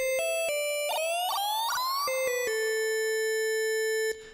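A Renoise tracker pattern plays a bright synthetic arpeggio starting from D5, fast stepping blips sliding upward, then settling into a sustained electronic tone that cuts off abruptly, loud and alone.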